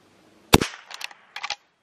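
Two sharp .22 caliber rifle shots from a Henry 001, spaced about a second apart, close and loud, each followed by a short ringing tail with brief quiet between, outdoors at a clay-shooting session.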